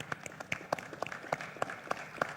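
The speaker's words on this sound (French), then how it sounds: "On l'applaudit." Scattered, faint applause from a keynote audience, individual claps ringing out at an irregular rhythm against a quiet room background.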